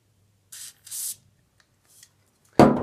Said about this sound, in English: just spray up the moving parts